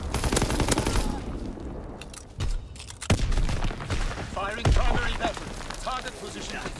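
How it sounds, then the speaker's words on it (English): Call of Duty WWII ranked online match with grenade explosions and bursts of gunfire, dense and loud throughout, mixed with players talking over the battle noise. "Damn, those nades, dude."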